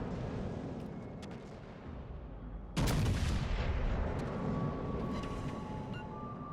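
Naval turret guns fire in World of Warships Legends, a sudden loud broadband boom at about 2.8 seconds that rolls on into a long rumbling tail over a steady low background drone.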